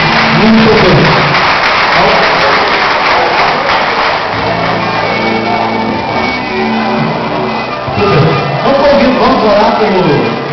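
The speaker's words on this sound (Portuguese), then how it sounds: "Uma salva de palmas, Marcos." Applause in a church during an engagement promise ceremony, a crowd clapping steadily while people speak loudly over it.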